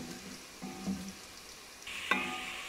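Onions browning in a hot pan for bhindi masala, a soft steady sizzle with a few light stirring scrapes and a sharper clink near the end, fairly quiet and close with no talking.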